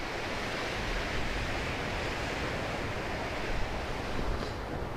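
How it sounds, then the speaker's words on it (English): Lake Superior waves washing onto the rocky shore near Split Rock Lighthouse, a continuous broad roar of surf with steady intensity and slight swells, no voices. "you can more than likely expect to hear waves the whole time you're here"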